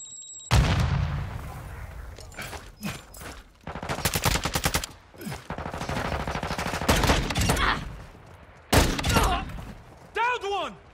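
Dense gunfire in a tactical shooter video game, with bursts of automatic fire, single shots and explosions filling the whole clip, loud and close, while a player's voice talks and shouts over it.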